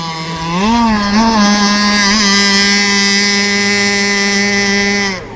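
An RC gas boat engine, its carburetor just leaned out, revs up and then holds a loud, steady, high-pitched buzzing whine close by, with no talk.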